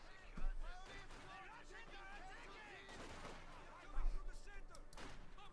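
A gunfire skirmish in the Company of Heroes 2 strategy game, with scattered shots and a few heavier blasts mixed into the battle noise, under continuous commentary from someone talking.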